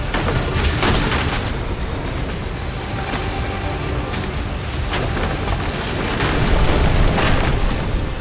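Dense, roaring blasts from an animated fantasy battle as a surge of power explodes and destroys the whole place, with repeated booming bursts over a continuous loud rumble that swells near the end.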